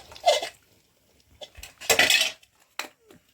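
Spice masala for sambar scraped and poured from a pan, with sharp close clinks of metal utensil against cookware in a few quick bursts separated by short pauses, no voices.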